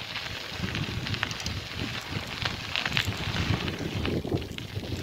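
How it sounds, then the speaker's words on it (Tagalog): Wind blows outdoors on a cold day, a steady rough rush buffeting the microphone with low rumbling gusts throughout, and no voices break through. "Malamig kasi, mahangin."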